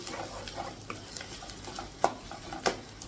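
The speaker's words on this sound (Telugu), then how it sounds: "ఆయిల్లో బాగా ఫ్రై అవ్వాలి పచ్చివాసన పోవాలి" Ginger-garlic, onions and green chillies fry in oil for a ridge gourd curry, a faint background sizzle broken by a few sharp clinks and scrapes of a ladle against the pan.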